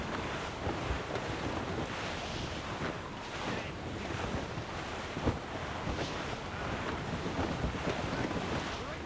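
A sailing ship in Assassin's Creed Rogue surges through the sea in a dense, steady roar of rushing wind and crashing waves, with loud gusting bursts and water slaps throughout and no voices.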